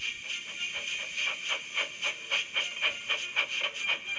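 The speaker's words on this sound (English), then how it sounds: "Gordon, with much noise and blowing of steam, got ready to back onto the train." Rhythmic, evenly spaced bursts of steam hissing from a locomotive, about a dozen puffs in quick succession, fairly close and moderately loud.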